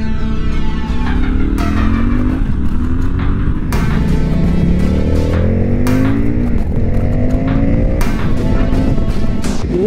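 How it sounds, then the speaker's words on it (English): Indian FTR S or Triumph Scrambler motorcycle engine pulling hard under throttle, a loud continuous roar with repeated rising pitch sweeps as it climbs through gears, with sharp bursts at each shift. "when you twist the throttle, they get going pretty good, and they have a pretty similar sound that comes out of them too"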